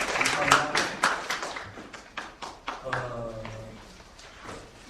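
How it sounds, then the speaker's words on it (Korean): An audience at a church anniversary service and symposium claps in a quick run of taps that fades after a few seconds, with someone speaking over it. "박수 한번 맞아주시면 감사하겠습니다"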